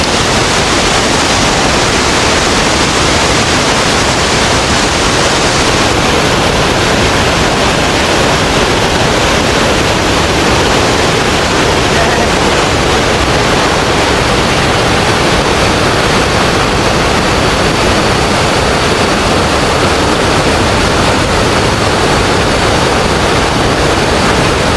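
Curug Luhur waterfall in Cibinong, southern Cianjur, roaring as a dense, constant wash of falling water, loud and unbroken with no voices.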